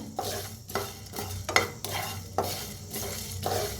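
Ingredients dry-roasting in a pan for sambar, stirred with a utensil in repeated scraping strokes and occasional metallic clinks against the pan, close and fairly quiet, no voices.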